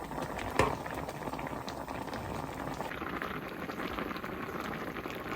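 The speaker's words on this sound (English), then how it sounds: "I've had the moss boiling for around 5 minutes" Moss simmers in a pot on the stove for a carnivorous plant potting mix, a steady low bubbling and hiss with one brief clink near the start.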